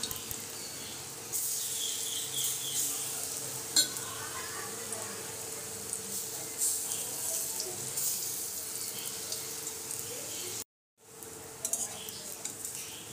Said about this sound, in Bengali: তেলটা গরম হতে পকোড়াগুলো একটা একটা করে ছেড়ে দিচ্ছি